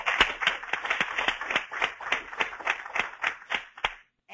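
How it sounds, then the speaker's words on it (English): Sparse applause from a small room audience after a research presentation on oil and gas development, individual claps distinct and rhythmic, moderately near, tapering off and stopping near the end. "I will please ask the audience that is here in the room to join me in applauding him"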